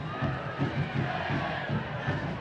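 Steady roar of a large crowd at a Detroit City FC soccer match at Keyworth Stadium, with chanting rising and falling in a rhythmic pulse across the stands.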